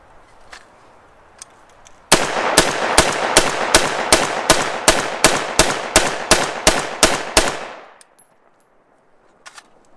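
A rifle with a K-Spec bolt carrier group fires about fifteen mil-spec rounds in a rapid, evenly spaced string of loud, sharp cracks, close and alone, followed by quiet with faint clinks.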